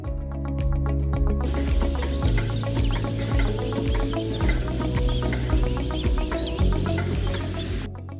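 Chickens on a poultry farm cluck and chatter continuously, many birds close by at once, over a low steady hum of farm machinery.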